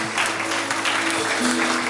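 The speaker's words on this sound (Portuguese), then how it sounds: "Uma salva de palmas." A church congregation applauding after a sermon, a dense, steady burst of clapping from many hands that fills the room for a couple of seconds.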